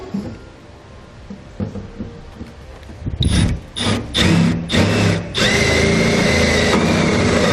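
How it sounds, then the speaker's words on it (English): A drill enlarges pilot holes in the bed of a 2015 Ford F-250 during installation of a gooseneck hitch. After quiet handling it starts in several short, loud bursts, then runs in one steady grinding stretch. "Now up top inside the bed, we can enlarge our pilot holes to the size indicated in the instructions."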